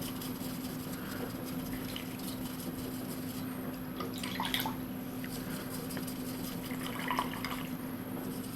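Paintbrush rinsed in a water pot to clear off brush soap while painting miniatures, soft faint swishing and light splashes in two brief bursts over a quiet steady hum.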